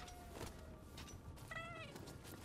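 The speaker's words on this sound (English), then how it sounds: "that's the Scampuss, the kitty." Cat yokai called the Scampuss in the Nioh 2 video game meowing twice, a short mew then a longer drawn-out meow, clear and close over steady in-game ambience.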